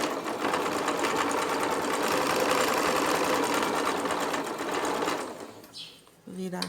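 A sewing machine runs steadily while backstitching fabric for a cloth toiletry bag, its rapid needle rhythm continuous for several seconds before stopping, with someone speaking over it.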